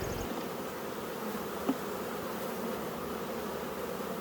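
A dense, steady drone of many honeybees buzzing close by at an open hive, continuous and even, with one faint click partway through.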